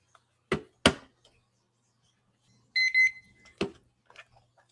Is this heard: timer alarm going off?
yes